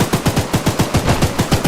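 Rapid automatic gunfire from the Choo Choo Charles video game, about ten sharp, evenly spaced shots fired in a quick burst, loud and close.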